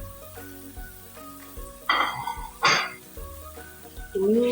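Chillies, lemongrass, galangal, lime leaves and bay leaves fry in a pan, sizzling with bursts of crackle as they are stirred, with clinks of a utensil and a short vocal sound near the end.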